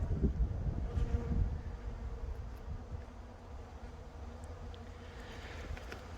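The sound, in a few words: bees flying around a hive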